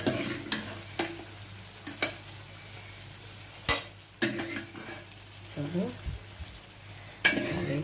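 A spatula stirs and scrapes mete chochchori, a Bengali liver dish, sautéing in a pan: irregular sharp clinks and scrapes against the pan over a low sizzle, close and moderately loud, no speech.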